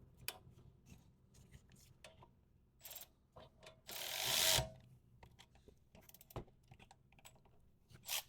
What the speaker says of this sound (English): Now put back that one caliper bolt for the guide pins.